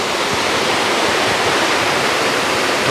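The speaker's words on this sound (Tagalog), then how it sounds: "Ito na nga ang hidden falls ng Laguna" Hidden Falls in Luisiana, Laguna pours with a steady, dense roar of falling water, close and loud with no break.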